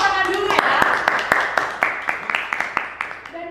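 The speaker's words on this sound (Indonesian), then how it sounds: "Kita kasih tepuk tangan dulu ya." A podcast audience claps together, a burst of close, sharp handclaps that keeps an irregular beat and fades over a few seconds, with light talk over the top near the end.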